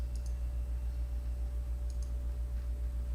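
A computer mouse clicks to close a Word window, producing a couple of faint, brief double clicks over a loud steady electrical hum, without any speech.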